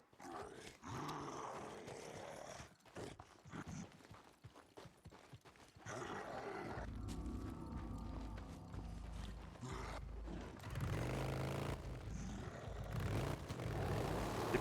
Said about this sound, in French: Je me disais bien que j'avais entendu une brute.